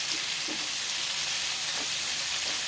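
Garlic, onion, tomato and black beans sauté in a pan with a steady, loud, close hiss and sizzle, broken by a few faint stirring clicks.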